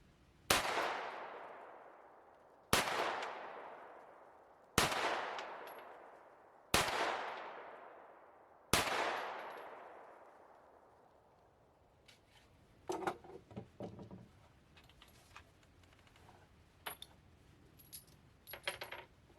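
Five sharp gunshots from a 365 pistol firing lead-free bullets at a paper target, spaced about two seconds apart, each ringing out with a long decay, followed by quieter clinks and handling noises.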